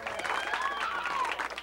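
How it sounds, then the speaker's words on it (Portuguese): Party guests at a family birthday celebration applaud in a continuous, moderately distant patter of clapping, with a voice carrying over the top. "Vamos dar uma salva de palmas para o nosso aniversariante."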